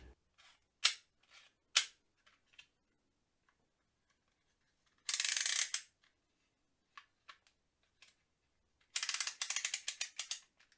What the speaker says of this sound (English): The red button has a similar action to every other box cutter you've ever seen.